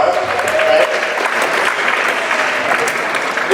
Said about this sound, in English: Everybody give Sophia a round of applause.